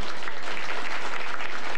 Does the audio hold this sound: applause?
yes